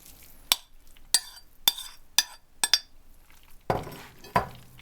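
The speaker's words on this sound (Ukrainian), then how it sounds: "тепер починаю в гарячі макарони додаю сир і перемішую" A spoon stirs cheese into hot drained macaroni in a pot, giving a series of sharp metallic clinks and scrapes, about eight in irregular rhythm, close and fairly loud.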